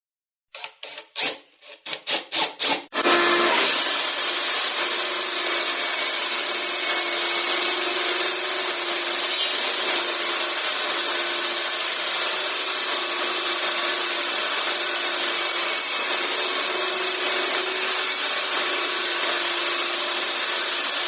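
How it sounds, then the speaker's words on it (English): Table saw cutting a dado channel into a wooden lamp base: a few short bursts as the blade spins up, then a steady, loud, continuous whine and rasp of the blade through wood for the rest of the clip, no talking. "we'll take it over to the table saw and we'll cut a dado right over to that hole"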